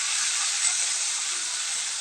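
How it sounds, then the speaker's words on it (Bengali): A spice paste fries in a pan for an okra dish, producing a dense, even, bright sizzling hiss that holds steady and close for the whole stretch, with no voices. "মশলাটা দিয়ে আমি 5 মিনিট ভাজবো, কারণ কাঁচা সর্ষের একটা গন্ধ আছে"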